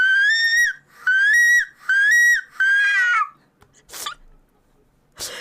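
A human voice imitating a seagull cry, four rising, nasal squealing calls in a row, close and loud, followed by a couple of short breathy noises.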